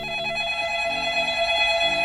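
Phone ringing in the video game Singles 2, a steady electronic ring tone held at a constant level across the whole stretch, sitting over quiet game background sound with no talk.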